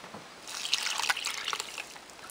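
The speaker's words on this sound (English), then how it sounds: "When you try and water them, all the water pours out of the bottom of the pot." Water trickles and splashes through bone-dry potting soil in a pot, draining straight out the bottom as a steady, close, moderately quiet running patter with no voices.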